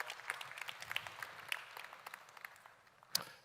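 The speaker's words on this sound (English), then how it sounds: "Let's give him a round of applause as well." Audience at a climate resilience knowledge event applauding, a faint, thin patter of clapping from a small crowd that fades toward the end.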